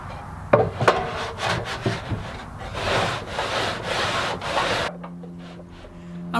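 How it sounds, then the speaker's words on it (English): A table saw cuts into wood at close range, with a harsh, steady rasping whine that stops abruptly, leaving the motor humming alone. It is cutting spline slots into the corner of a cherry picture frame, and nobody speaks. "I'm raising the height of my blade to cut about 1 inch into the corner of the frame"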